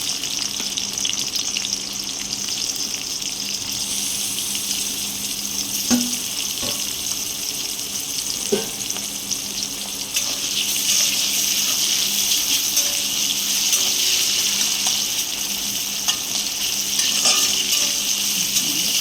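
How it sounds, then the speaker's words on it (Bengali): Chopped garlic and onion sizzle steadily in hot oil for a long stretch, with occasional stirring clinks and a louder burst of frying partway through. "তেলটা গরম হয়ে গেছে, এবার এতে দিয়ে দেবো অল্প সামান্য কুচিয়ে রাখা রসুন, আর দেবো একটা বড় সাইজের পেঁয়াজ কুচি।"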